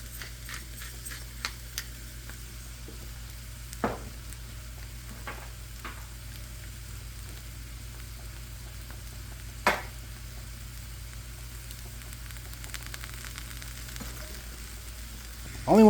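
Seasoned food (salt and cracked pepper) cooks lightly in a pan for enchiladas, a soft, steady sizzle with occasional clicks and scrapes of stirring, fairly quiet and with no talking.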